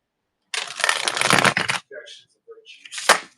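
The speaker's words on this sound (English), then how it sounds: "Let me go ahead and shuffle one more time" A quick riffling shuffle of tarot cards, a burst of papery flutter, followed by a few soft taps and a final short riffle.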